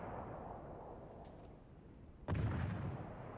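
A Gneisenau turret fires in the naval video game World of Warships: a single sharp, heavy boom breaks through a quiet low rumble, then rolls on as a deep sustained roar.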